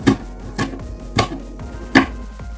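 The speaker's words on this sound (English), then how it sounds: "We're going to slice these onions into little pieces." Knife slicing onions on a cutting board, four distinct, evenly spaced chops with quieter taps between, close and crisp, no speech.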